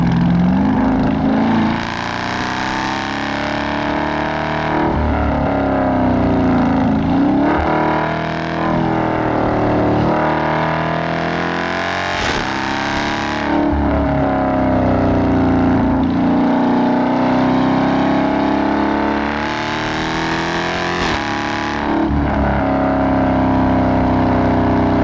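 A Dodge Challenger R/T engine accelerating hard on an open road, a loud continuous roar with rising and falling revs through gear changes, heard from inside the car with no talking.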